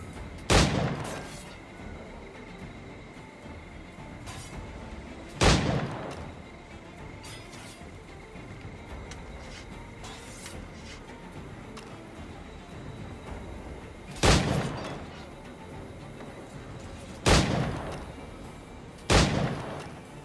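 Gunshots in Assassin's Creed Black Flag ring out as five loud, sharp cracks spaced unevenly over a steady low background rumble, with several seconds of quiet between some shots.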